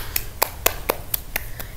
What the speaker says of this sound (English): Why am I the only one clapping?